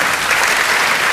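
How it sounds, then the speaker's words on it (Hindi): An audience at a Hindi poetry recital claps loudly and continuously, a dense, even wash of many hands applauding up close. "एक बार अपने सम्मान में तालियां बजाइए"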